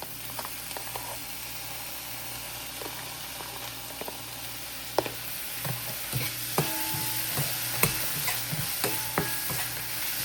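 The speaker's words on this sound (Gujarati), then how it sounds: "આદુ લસણ શેકા દઈએ બરાબર એટલે કચાશ જતી રહે" Ginger and garlic sizzle and roast in a pan for vada pav, a steady soft fry under scattered clinks and scrapes of a spoon stirring, close by.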